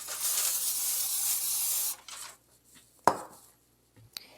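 Cooking spray hisses onto pork chops in a continuous burst of about two seconds, followed by a short second puff, then a quiet stretch broken by a sharp clack and a soft knock.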